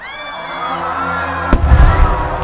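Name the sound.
fireworks and firecrackers exploding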